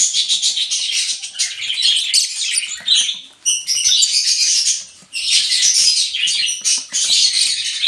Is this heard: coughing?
no